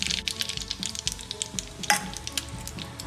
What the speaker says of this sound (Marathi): आता एक छान जरा परतून घेऊ आधी।